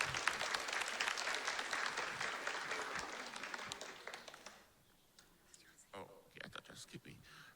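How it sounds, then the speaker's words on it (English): Applause from a seated audience at a live performance, dense clapping for about four seconds that thins and fades, followed by scattered claps, murmurs and soft talk. "let's all give Dr. Ewan a big round of applause"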